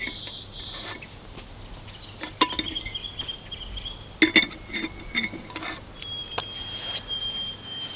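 A metal pot lifted with a pot gripper and set back on an MSR Pocket Rocket 2 camping stove, several sharp close metallic clinks and taps scattered over a quiet background.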